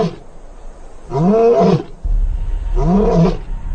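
Two deep, loud warning roars from male lions in the African savanna sound close by, each a long rumbling call separated by a brief pause, with low wind rumble underneath.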